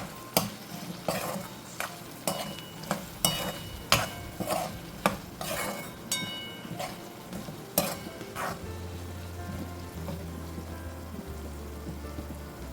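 A spoon stirring tomato into pumpkin curry in a hot pan: repeated scraping strokes in an uneven rhythm over a soft sizzle, close and fairly loud, ending with a low steady hum after the stirring stops.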